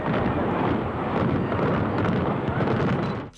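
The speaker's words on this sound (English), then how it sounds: "a highly controlled implosion was the only way to safely bring it down" Controlled implosion demolition of a hospital building, heard as a loud, continuous, broad rumble that roars for over three seconds with a wind-buffeted quality, then cuts off abruptly.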